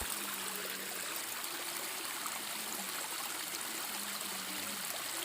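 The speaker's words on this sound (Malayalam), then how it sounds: "കൂടരഞ്ഞി പെരുമ്പൂള എന്ന് പറഞ്ഞിട്ടുള്ള സ്ഥലത്താണ് ഈ ഒരു വെള്ളച്ചാട്ടം." A small waterfall stream at Perumpoola in Koodaranhi gives a steady, even rush of falling and trickling water, constant and unbroken with no voices.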